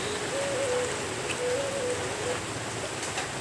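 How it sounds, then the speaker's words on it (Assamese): Rain drums on the roof of a village house in Assam, a dense continuous hiss overhead with a faint tonal whistle drifting in and out, steady and fairly loud. "আপোনালোকে হুলস্থুলৰ নিচিনা শুনিছে মানে ওপৰত বৰষুণ দি আছে"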